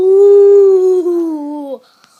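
A young girl imitates a cow with a single long, low, steady moo voiced close to the microphone, fading out at the end.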